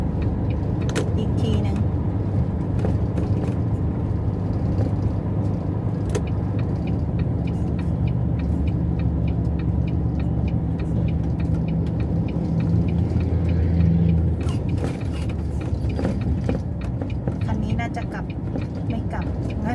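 A car driving on a roadside street and swinging through a U-turn, heard from inside as a steady low engine rumble and road noise with a brief rise in engine tone partway through, occasional clicks and rattles.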